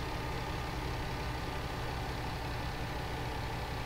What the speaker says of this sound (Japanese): エンジンブレーキで今下ってる感じですね。